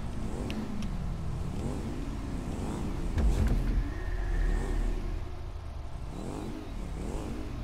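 Motorcycle engine in GTA V, a steady mid-pitched drone that swells briefly around the middle with a low rumble, continuous throughout with no talk.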